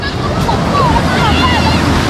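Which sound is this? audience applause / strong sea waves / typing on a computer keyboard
strong sea waves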